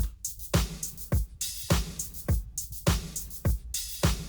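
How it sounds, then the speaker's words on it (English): A looping drum groove of kicks and snares with a short open hi-hat hiss recurring between beats, no voices. "And then you can add this little open hat."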